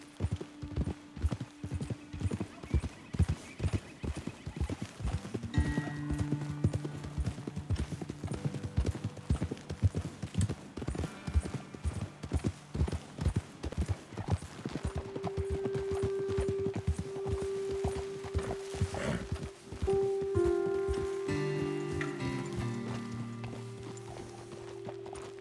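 Steady clip-clop of horse hooves in Red Dead Redemption 2, walking at an even rhythm, with occasional tack jingles and snorts. A sustained musical tone drifts in later as the pace continues.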